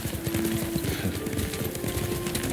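Horse hooves clop at a steady rhythmic pace while riding in Ghost of Tsushima Director's Cut, with continuous wind and ambient game sound around them.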